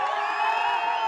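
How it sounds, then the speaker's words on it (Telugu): A crowd at a university event in Rajkot, Gujarat cheering and whooping in a brief, steady burst, with bright, high-pitched voices blending into one continuous roar. "ఒకసారి గట్టిగా చప్పట్లు"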